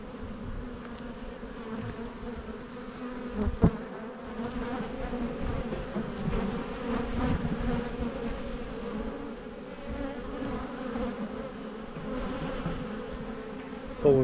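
Honey bees from several backyard hives hum in a dense, steady drone while the hives are opened for inspection, close and continuous, with a few faint knocks.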